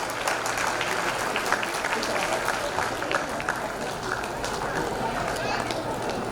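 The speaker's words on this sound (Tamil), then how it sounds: "இந்த வீராங்கனைக்கு உங்கள் கைத்தட்டல்களே வாழ்த்துக்கள்" A school graduation-day audience claps for a young female silambam performer, a continuous rattle of many hands at moderate level, with a voice talking over the applause throughout.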